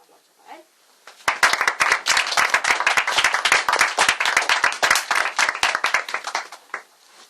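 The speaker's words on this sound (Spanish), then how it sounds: "os pido un aplauso para él" After a brief quiet moment, an audience bursts into dense, steady applause for an author of a medieval tale, close and loud for several seconds before fading at the end.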